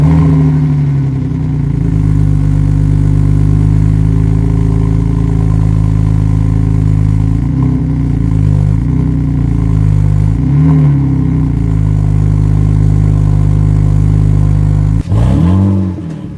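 BMW E85 Z4 engine running loud and close, a steady idle swelling into several revs, then a sharp drop near the end.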